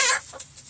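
A chicken gives a loud, close cluck followed by softer clucks from young hens and a year-old hen inside a backyard coop.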